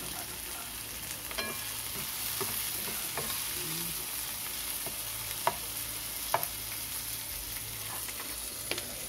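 Pork binagoongan sautéing in a pan, a continuous close sizzle with occasional sharp pops and faint stirring scrapes, steady throughout with no talk.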